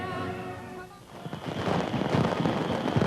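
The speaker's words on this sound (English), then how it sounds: "Then daylight fireworks almost shrouded the palace in smoke and caused mild alarm on the balcony." Daylight fireworks burst over the palace during VE Day anniversary celebrations, a ragged crackle of rapid bangs and rumbling over a large, noisy crowd, growing louder after a brief lull.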